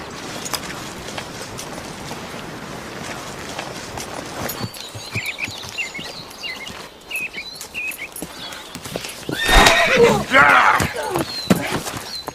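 A horse's hooves clip-clop in a steady rhythm, with a brief whinny and louder stamping toward the end, under continuous talk.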